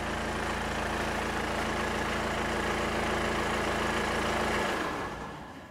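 Kia Sorento 2.2 diesel 4WD idles with a steady, even clatter for several seconds, then the engine is switched off and the sound quickly dies away to near quiet.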